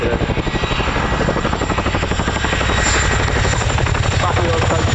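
A Chinook helicopter at the RAF Cosford Air Show runs on as it is flown straight onto the ground to land, its loud, close, pulsing twin-rotor thump churning continuously.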